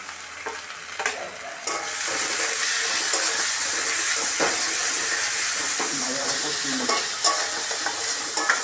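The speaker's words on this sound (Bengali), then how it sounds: "ভালো করে কষিয়ে নেব।" Ground spices (turmeric, chili, coriander, cumin, ginger and garam masala paste) fry and hiss steadily in a pan, with scraping stirs and clinks cutting through a constant sizzle throughout.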